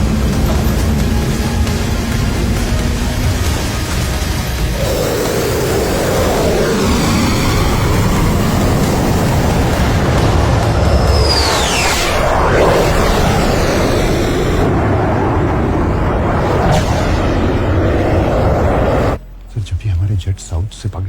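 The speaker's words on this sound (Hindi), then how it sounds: "Wolf clear for takeoff." Military fighter jets on a runway taking off, a loud, continuous roar of jet engines that swells and sweeps over about twenty seconds, with a brief cut near the end.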